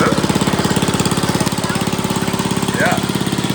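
A 1951 REO Royale Deluxe reel mower's small gasoline engine runs steadily up close, a fast, even chugging pulse throughout, with a brief voice passing over it near the end.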